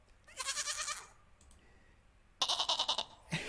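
Two bright, trembling bleats from a baby goat sound effect, each close and loud and separated by a quiet stretch of over a second, the second one ending in a short extra squeak.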